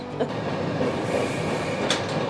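A Vistadome coach train running between Araku and Jagdalpur through hill country, heard from inside as a steady rumbling roll with faint rhythmic clatter and a brief high squeal near the end, with no talking.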